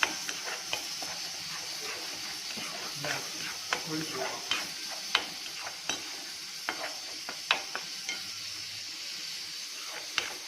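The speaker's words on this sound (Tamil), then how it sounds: "இஞ்சி பூண்டு கருவேப்பிலை போட்டு நல்லா வதக்கலாம்" Onion, tomato, ginger, garlic and curry leaves sauté in a pan for a liver fry, with a steady sizzle broken by frequent sharp clicks and scrapes of a spoon stirring, close and moderately loud, without talk.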